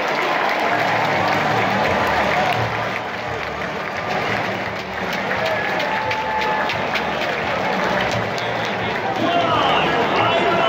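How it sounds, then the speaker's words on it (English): Stadium crowd at a New Zealand versus Ireland rugby match applauds the man of the match, a broad, continuous roar of clapping and crowd noise that stays loud and unbroken throughout, with a commentator talking over it. "Applause is for Beauden Barrett as the man of the match."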